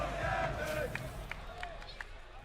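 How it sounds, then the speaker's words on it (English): Esports crowd chanting for a player at a Capcom Pro Tour fighting game tournament, a steady roar of many voices with a few sharper shouts rising over it. "The crowd chanting for him."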